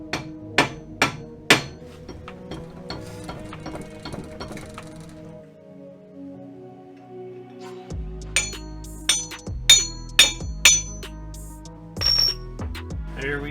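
Sharp metallic hammer blows ring out on a Jeep JKU rear axle shaft, a few spaced strikes, then a ringing pause, then a quicker burst of clanging hits up close.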